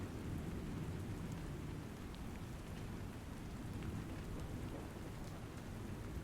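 Heavy rain pours steadily with rumbling thunder beneath it, a dense, unbroken roar of falling water that fills the whole stretch without pause.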